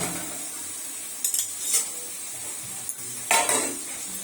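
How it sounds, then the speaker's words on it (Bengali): Spices are sautéed in a pan at home alongside shrimp and fried eggplant, with a metal spatula scraping and clinking against the pan in several sharp bursts over a low, steady sizzle. "এখানে মশলা কষানো হচ্ছে।"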